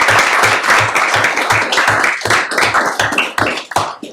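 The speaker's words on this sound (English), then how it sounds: "let's give them a round of applause" A room at a county commissioners court meeting breaks into applause for a group of students, loud, close claps rising in a quick rhythmic patter and then thinning out toward the end.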